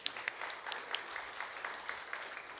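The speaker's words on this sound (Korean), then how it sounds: "양국직 목사님, 여러분 다시 한번 박수." Church congregation applauding during a Sunday service, a steady patter of clapping from a fairly small group, moderately quiet and continuous throughout.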